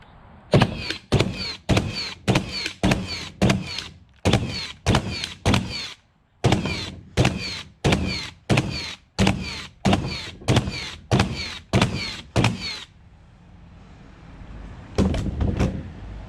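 Milwaukee and Metabo 30-degree cordless framing nailers bump firing in rapid succession: two fast runs of about a dozen loud, sharp thunks each, separated by a short pause, then a brief burst near the end.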